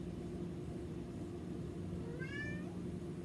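A single short cat meow rises briefly and fades, faint and somewhat distant over a steady low hum, with no voices.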